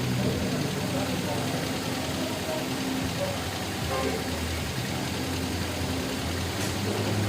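A cold car engine runs noisily at idle with a steady, rough clatter while a voice talks over it.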